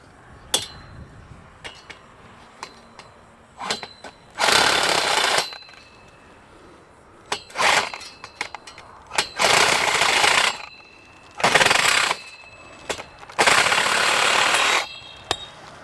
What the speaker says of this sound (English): using a bandsaw, hacksaw, a sawzall, angle grinder, whatever you have, we're going to cut this end off